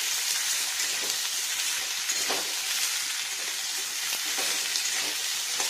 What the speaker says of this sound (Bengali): এক পিঠ ছেড়ে দিই, ভাজা যাক, উল্টো করি